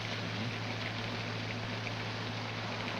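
Heavy rain pours down in a 1939 film scene during a hurricane, a dense continuous hiss with a low steady rumble beneath, unbroken and fairly quiet, with no voices.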